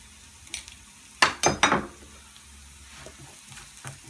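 Half an onion sautéing with salt in a hot pan for a fish egg roast, three loud close scraping stirs in quick succession over a steady low sizzle, then quieter utensil taps.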